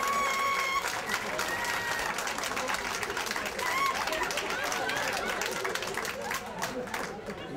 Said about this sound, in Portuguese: uma grandiosa e calorosa salva de palmas para o Presidente das Festas, o Sr. João Armand